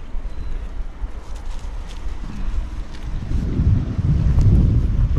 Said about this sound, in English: Bit of a wind though, it's a bit of a westerly.